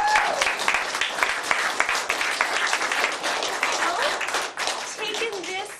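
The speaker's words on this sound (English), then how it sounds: "let's give Mr. John Breugel a huge round of applause." Dense, hearty applause from an audience, many hands clapping at once with a few scattered voices mixed in, staying steady for several seconds.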